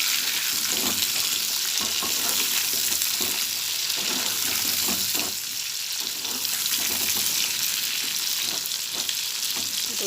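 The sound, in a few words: frying pointed gourd (potol) in a pan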